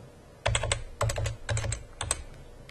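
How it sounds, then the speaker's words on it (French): A password is typed on a computer keyboard in several quick bursts of sharp, close key clicks separated by short pauses, with no talking. "pour se loguer, on tape notre mot de passe"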